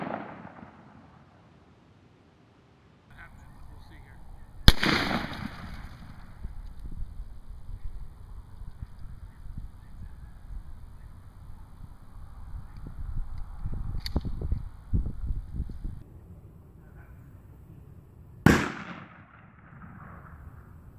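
Two sharp, loud shotgun blasts fired at a Christmas tree from about 15 yards ring out far apart, with quieter crackling and rustling between them outdoors.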